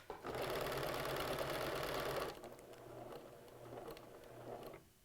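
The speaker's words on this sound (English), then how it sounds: "The button stitch is just a back and forth tack that would put on a button. We're just going to use it to tack the quilt." A sewing machine stitches a back-and-forth button-stitch tack through a T-shirt quilt, first a loud rapid whirring burst, then a softer, steady run of repeated stitching close to the microphone, with no talking.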